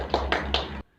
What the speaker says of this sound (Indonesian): kita beri tepuk tangan dulu sekali lagi untuk kelompok